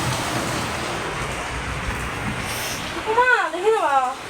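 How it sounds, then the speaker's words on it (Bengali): Rain falling outside, a steady broadband hiss that continues throughout, with a voice speaking briefly near the end. "বৃষ্টি হচ্ছে তো"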